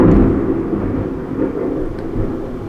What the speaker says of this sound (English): God, this thunder, man.